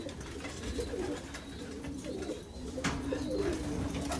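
Racing pigeons back in a rural loft give low, repeated throaty coos close by against quiet room noise, with a few soft rustles between calls.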